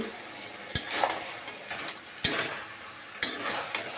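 Lentil bori frying in a pan while being stirred for a dry vegetarian curry, a soft sizzle broken by three or four sharp spatula knocks against the pan, no voices.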